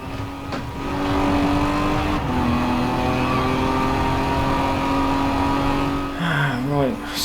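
Racing car engine in a driving video game, revving with steady sustained tone and pitch shifts, a gear change and rising rev near the end, with people talking over it.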